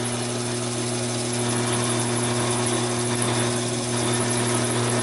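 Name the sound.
drilling steel bar with quarter-inch bit on Taig lathe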